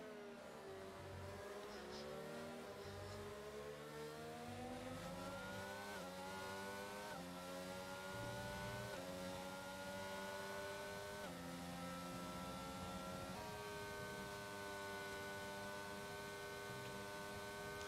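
F1 race cars in a video game drone with high, tonal engine whines that rise and shift through gear changes, several cars overlapping as they pass a McLaren, a continuous loud mechanical roar.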